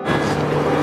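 A loud, steady vehicle roar with a low engine hum, like a bus rushing close by, filling the whole short moment.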